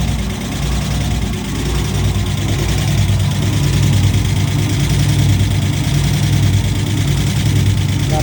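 A car engine idles steadily just after a head gasket replacement, a loud continuous low rumble with even running and no pauses, recorded up close.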